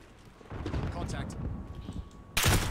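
Gunfire in a Call of Duty match: a few muffled shots and impacts under speech, then one sharp, loud blast near the end.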